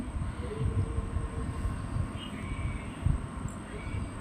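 A continuous low rumble from inside a moving passenger train running from Tirupati to Shirdi, steady rolling noise with a faint high whine and occasional small rattles.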